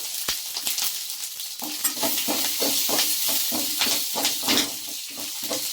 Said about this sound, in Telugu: కొంచెం దూరంగా వేగనిద్దామండి అల్లం, పచ్చిమిర్చి